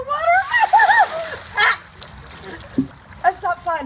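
A bucket of ice water is dumped over a person during an ice bucket challenge, a brief splash and splatter burst mixed with shrieks and excited voices talking and yelling around it.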